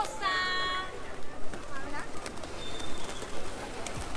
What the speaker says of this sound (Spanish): Uy, tienen hambre las palomas.